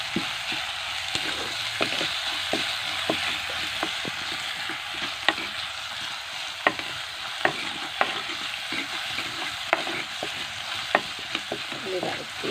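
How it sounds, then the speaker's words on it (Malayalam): Large onions sautéing in a pan for a Wayanad-style crab roast give a continuous soft sizzle, punctuated by regular sharp clacks of a spoon scraping and stirring the pan. "അപ്പം ഉള്ളി നല്ലോണം വഴറ്റി കൊടുക്കാം."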